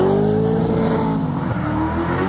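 Car drifting at an outdoor auto show in Latvia, with a loud, continuous engine roar and rising tire squeal sustained close by throughout.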